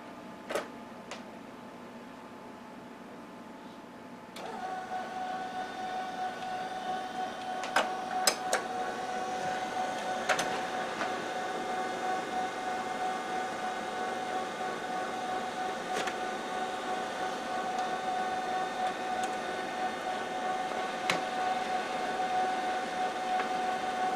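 An HP LaserJet 5P laser printer runs its self-test status page, a steady mechanical whir and hum with scattered clicks and ticks, nearby and continuous after the machine spins up a few seconds in.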